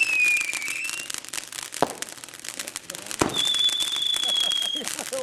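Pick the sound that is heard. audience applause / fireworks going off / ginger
fireworks going off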